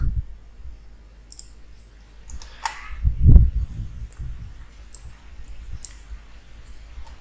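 Computer mouse clicks while operating ModelSim software, a few sparse close clicks with a dull thump in the middle amid quiet room noise.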